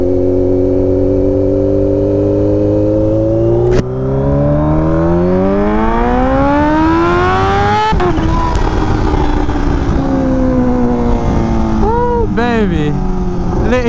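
Kawasaki Ninja H2 motorcycle engine revving hard and loud up close, its pitch climbing steadily to a high scream before a gear change drops it and it winds up again, with brief blips near the end.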